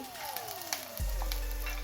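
Steady sizzling of ginger and garlic frying in hot oil, growing louder after a sudden burst as something hits the pan, with a few light clinks.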